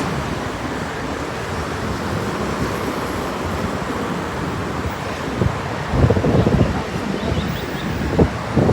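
Strong wind buffets the microphone in gusty rumbles, louder toward the end, with a faint wash like surf underneath.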